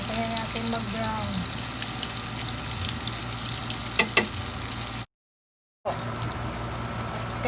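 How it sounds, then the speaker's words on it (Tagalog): Bean sprouts fry submerged in hot oil for crispy lumpia, making a steady close hiss and sizzle throughout, with a couple of sharp clinks and a brief dropout near the end. "Magpiprito na tayo ng ating toge."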